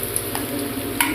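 A tempering of mustard seeds, garlic, onion and dried chili for rasam sizzles in hot oil, a steady close hiss broken by a few small pops and clicks.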